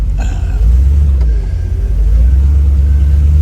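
A 1957 Chevy Bel Air two-door Sport Coupe restomod rumbles steadily at close range as it is shifted through park into reverse and pulls away, with a deep, continuous engine drone.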